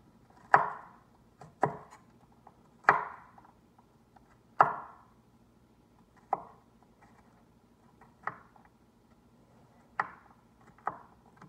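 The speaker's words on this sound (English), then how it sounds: "And chop them up a little bit." Knife chopping garlic cloves on a cutting board, about ten separate sharp chops at an uneven pace, close and clear with nothing else going on.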